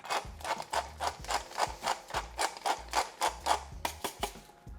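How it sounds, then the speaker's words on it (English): A hand pepper grinder cracks white pepper in a rapid series of about fifteen crisp, ratcheting crunches in a steady rhythm, close and fairly quiet, with no voices. "I used a lot of white pepper, so I have it in a grinder."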